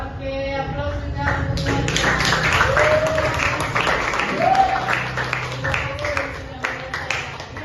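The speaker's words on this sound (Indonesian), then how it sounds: "Oke, aplaus juga" A class of vocational high school students claps in a room, a dense spattering of applause under talk and background music.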